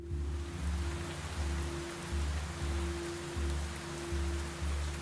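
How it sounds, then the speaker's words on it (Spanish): Steady rain falls at night in Durango, Mexico, as a dense, even hiss under a low, pulsing drone. "Llueve en Durango aquella noche"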